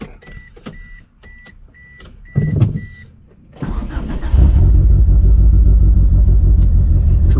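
A Suzuki GSX car starting from cold: a few clicks and a whir, then the engine cranks and catches, settling into a loud, steady close-up idle rumble.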